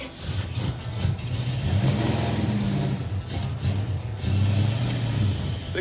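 A red Dodge Duster's engine runs and revs in a garage, a loud, close, rumbling idle that swells with several throttle blips, heard alone without talk.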